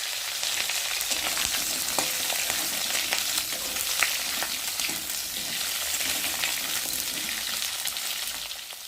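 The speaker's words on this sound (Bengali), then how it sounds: "আলুটা ভাজা ভাজা হয়ে গেছে" Potatoes and a few chillies frying in hot oil with black cumin seeds in a wok, a steady close sizzle and crackle running the whole time with small pops and stirring scrapes, no talk.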